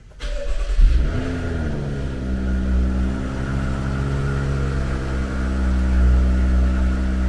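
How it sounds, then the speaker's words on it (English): A tuned BMW X5 35i cranks briefly and its engine catches with a loud flare, then drops into a steady, smooth idle heard close up. "Wait 5 seconds, then start the car."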